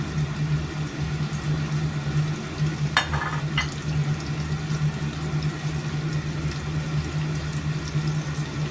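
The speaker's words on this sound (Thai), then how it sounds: "ทอดด้านเนื้อก่อนนะคะ ใส่ลงไปทอด มันไม่ร้อนจัดนะคะ" A sea bass fillet fries flesh side down in oil that is not very hot, making a soft, continuous sizzle under a low hum. A brief clatter of movement comes partway through, and nobody speaks.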